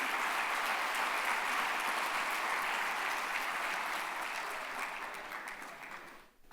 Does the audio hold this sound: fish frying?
no